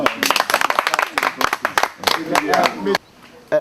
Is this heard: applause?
yes